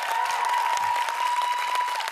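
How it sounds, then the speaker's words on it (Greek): A TV studio audience on a Greek talk show claps in steady, dense applause that fills the whole moment, with a faint voice underneath. "Χειροκροτήστε, εξαιρετικός."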